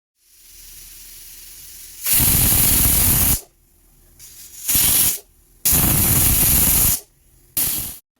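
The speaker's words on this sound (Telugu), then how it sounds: "ప్రెషర్ కుక్కర్ మూత పెట్టుకొని ఒక 3 విజిల్స్ అయితే రానివ్వాలండి" A pressure cooker of chicken biryani on the stove releases loud bursts of hissing steam, four separate jets of varying length, with a faint simmering hiss between them.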